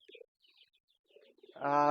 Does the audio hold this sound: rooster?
no